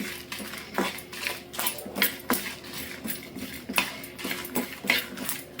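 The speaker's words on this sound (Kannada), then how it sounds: "ಬಿಳಿ ಎಳ್ಳು ತೊಗೋತಾ ಇದ್ದೀನಿ. ಇದನ್ನು ಸ್ವಲ್ಪ ಡ್ರೈ ಆಗಿ ಹುರ್ಕೊಳ್ಳೋಣ." White sesame seeds are dry roasted in a pan, with steady rhythmic scrapes and light metallic clinks of a spatula stirring against the pan throughout.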